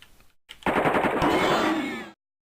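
Rapid automatic weapon fire in the first-person shooter AOPID, a loud continuous burst lasting about a second and a half after a couple of faint earlier shots, then cutting off to silence.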